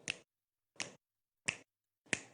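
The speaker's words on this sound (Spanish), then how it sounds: "También vamos a utilizar chasquidos." Four crisp, sharp finger snaps come alone in a body percussion lesson, spaced evenly about two thirds of a second apart against silence.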